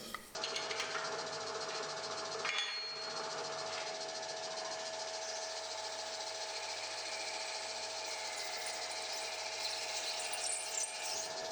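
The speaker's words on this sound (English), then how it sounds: "today I wanna machine this wheel at the drill press" A drill press hums steadily at close range with a constant motor whine, and a brief scraping interruption marks it cutting a Delrin plastic belt grinder wheel.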